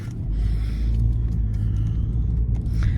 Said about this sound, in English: We need to move because this car is disrespectful AF.